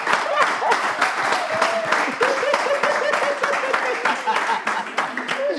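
Studio audience applause during a live French talk show, dense rapid clapping from a crowd, loud and sustained throughout with a faint tonal element underneath.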